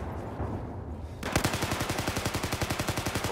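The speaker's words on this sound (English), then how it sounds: "He caught me on that reload with my loud-ass gun, unsuppressed gun." An unsuppressed automatic rifle fires in Battlefield 4 Domination on Golmud Railway, a loud rapid burst of evenly spaced shots that starts abruptly after a quieter stretch of ambient battle noise and continues to the end.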